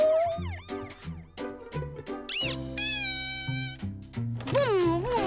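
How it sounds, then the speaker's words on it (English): A toy emergency vehicle plays its electronic siren in short wailing bursts, rising and falling tones heard up close amid playful voices. "It's got a siren."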